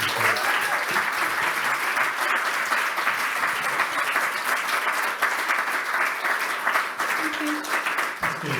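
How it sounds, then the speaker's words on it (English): Conference audience applauding after a session presentation, a steady, dense wash of many hands clapping that holds at full strength for the whole stretch. "Can we give Helen a round of applause?"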